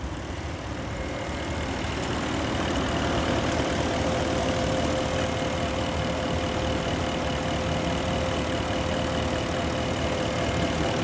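Porsche Cayenne Turbo engine idling steadily with a smooth, even drone and faint high whine, close and constant throughout, with no voices.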